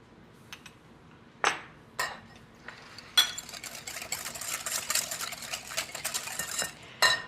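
A wire whisk stirring melted chocolate mixture in a bowl, close scraping and clinking strokes that start as a few sharp taps and build into a continuous brisk whisking.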